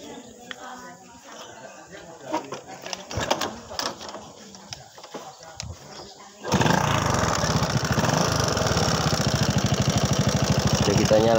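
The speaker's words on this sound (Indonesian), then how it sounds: "Sekarang kita nyalakan aja dulu motornya." A motorcycle engine starts partway through and settles into a steady, close, even idle that runs on alone, after a stretch of people talking over background noise.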